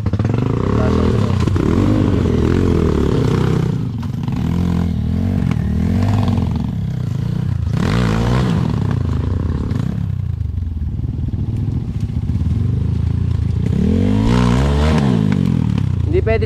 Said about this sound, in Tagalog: Parang pangit yata ng anda ng motor ko.